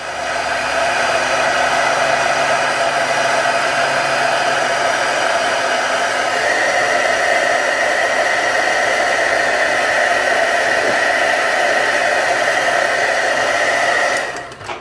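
A heat embossing tool blowing hot air over embossing powder gives a loud, steady hair-dryer-like whoosh with a constant whine, running close and uninterrupted for about fourteen seconds before cutting off.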